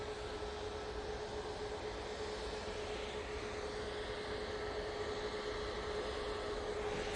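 TUI airplane at Manchester Airport, a faint continuous engine rumble and whine with a steady tonal hum, distant and even throughout.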